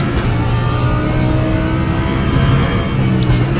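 An Audi race car engine drones and revs at Brands Hatch in the RaceRoom sim racing game, a loud steady whine that climbs and falls slightly through the gears with no talk.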